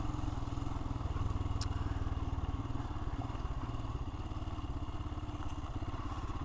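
A Royal Enfield Himalayan motorcycle rides through a low turn, its engine giving a steady, close thrum with a faint rattle over it, and no voices.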